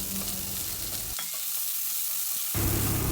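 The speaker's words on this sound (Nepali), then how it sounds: "अब प्याजलाई एकछिन फ्राई गर्ने।" Onion fries in hot oil with ginger garlic paste and green chili for veg momos, a close sizzle broken by a brief pause before the frying resumes loudly.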